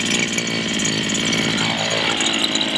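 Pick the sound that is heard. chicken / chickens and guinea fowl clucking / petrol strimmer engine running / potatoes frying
petrol strimmer engine running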